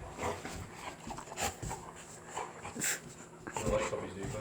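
Puppies whimper and pant in short, irregular bursts while playing indoors, with occasional yips close to the mic and people talking faintly in the background.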